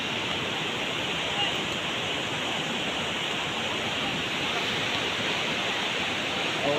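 Flooded village river after heavy rain, its rushing water making a steady, dense roar that stays constant and close throughout without letting up.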